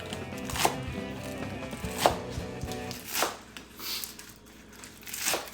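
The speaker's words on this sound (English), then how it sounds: "we're gonna cut our kale up into pretty small slices" A big knife chops kale into small slices on a cutting board, with a few sharp, distinct knife strikes spaced about a second apart, close and fairly quiet, with no talking.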